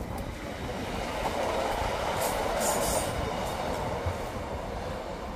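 A train rumbles past on a busy railway line, a steady close roar of wheels and carriages that holds at an even level throughout, with faint high squeals near the middle and no voices.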